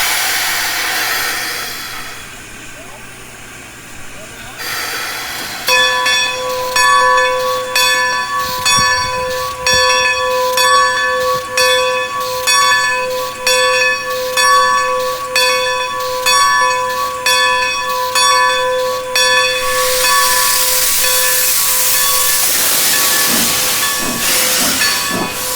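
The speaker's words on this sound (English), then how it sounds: "Loud train, yes." A loud train in the video game Ocarina of Time: a steady hissing rush of steam with repeated chiming, whistle-like game tones pulsing in a regular rhythm, ending in a broad burst of noise.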